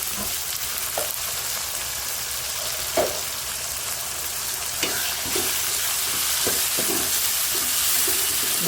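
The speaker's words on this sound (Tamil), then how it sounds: "பச்சை வாசனை வரைக்கும் வதக்கணும் இஞ்சி பூண்டு" Ground ginger-garlic paste sautéing in a pan for Kongu-style blood and intestine fry, with a steady, close sizzle and occasional soft stirring taps.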